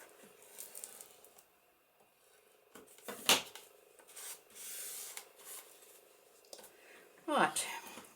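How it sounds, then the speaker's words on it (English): Rubbing noises as paper is burnished down by hand in a junk journal craft project, quiet scrapes and swishes in short strokes, with a couple of louder rubbing passes. "So burnish that down."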